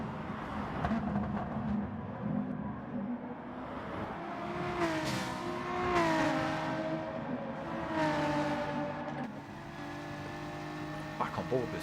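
BMW M3 race cars battling wheel to wheel in a video game touring car race, engines revving and shifting through rising and falling pitches, with a commentator talking over the steady engine roar.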